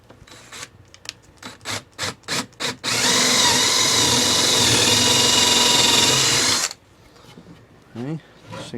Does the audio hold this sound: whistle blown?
no